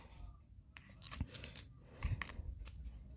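Tarot cards shuffled by hand, a few close, quiet papery riffles and rustling bursts with soft pauses between them.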